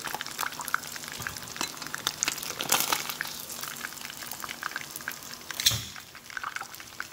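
Fish frying in a pan at a riverside fishing camp on the Araguaia, a continuous crackling sizzle with scattered pops and spits, close and fairly quiet, with a clunk of the pan near the end.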